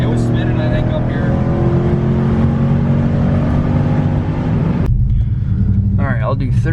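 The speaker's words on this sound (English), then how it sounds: "I'm gonna go ahead and do a 4-wheel drive launch, just to like 60 or 70" A cammed Hemi Ram pickup with a 6.4 engine and ported intake manifold roars loudly through a hard 4-wheel-drive launch, its deep engine drone sustained before cutting off abruptly near the end, with voices heard afterward.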